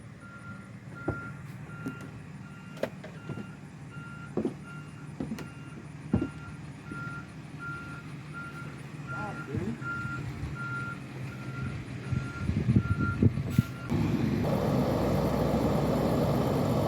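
Reversing beeps from a truck repeat in a steady pulsed pattern at a cabin siding build site, with engine rumble, intermittent knocks and clatter of work nearby, and louder broadband engine noise toward the end.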